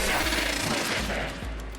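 A player fires in the video game Warframe: dense, continuous rapid gunfire fills the whole stretch, loud and unbroken, with no voices over it.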